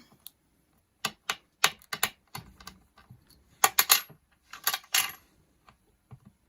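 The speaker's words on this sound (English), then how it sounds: "I'm gonna take my actual knife now, and I'm gonna first cut it all the way down" A knife slicing down through a polymer clay cane gives a series of sharp, close clicks and taps in irregular bursts, clear and isolated with no talk.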